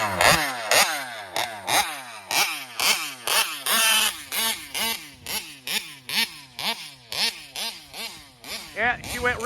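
A small two-stroke engine on a Taylor 71 Supreme Kraken Vesla revs and bogs in uneven bursts, running rich, sputtering and popping as it runs rough, loud and close.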